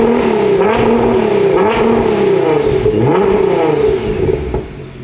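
An 800-horsepower Nissan GT-R with a new exhaust revs hard, loud and close, the engine note climbing and falling in repeated sweeps before easing off at the end.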